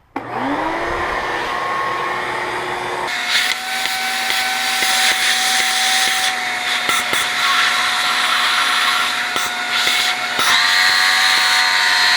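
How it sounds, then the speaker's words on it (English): Shop vacuum motor set to blow while its tube clears Seafoam cleaning liquid from a Mazdaspeed 3 intake valve, a loud steady high-pitched roar that shifts in tone as the nozzle moves. "we're going to turn our vacuum on, stick the tube down inside the valve, and blow out all that seafoam liquid that's sitting in there"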